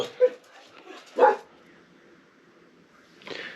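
Dogs barking on a street, a few sharp barks and yips spaced irregularly at moderate distance, with quiet gaps between them.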